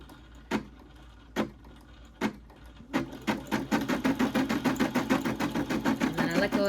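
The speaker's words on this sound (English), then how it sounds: "let the embroidery machine move around as it needs to" An embroidery machine stitches a design onto a bag: a few slow, separate thumps at first, then a fast, steady run of needle strokes that keeps going to the end, close and clear, with no talking.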